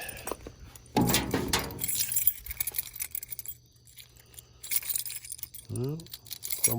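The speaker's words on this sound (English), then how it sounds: "fumbling for keys in the early morning." Keys jangle and clink in early-morning fumbling, a bright metallic burst near the start with scattered chinks after, a brief voice cutting in toward the end over low truck-cab hum.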